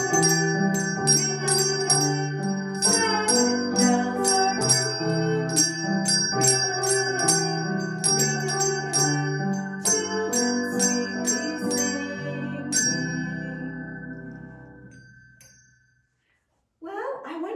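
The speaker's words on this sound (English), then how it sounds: "It's time to ring our Sabbath bells." Children ring small hand bells for the Sabbath, giving a bright, jangling run of repeated strikes with a sustained ringing tone, loud and close for about thirteen seconds before fading to silence.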